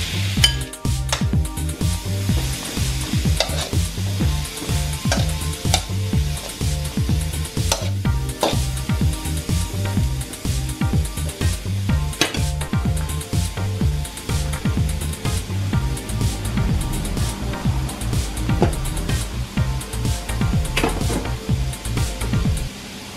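Vegetables for pinakbet sauté in a pan with a continuous close sizzle, broken by frequent scrapes and clinks of a utensil stirring against the metal, with no talking.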